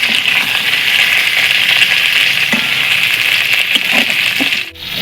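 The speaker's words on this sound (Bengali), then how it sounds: "সব পটল পটলগুলো আমি লাল করে ভেজে নিচ্ছি" Pieces of pointed gourd (potol) fry in hot oil with a loud, dense, steady sizzle close up, small scrapes showing through, easing off briefly near the end.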